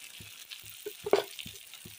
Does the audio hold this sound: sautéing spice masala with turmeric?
yes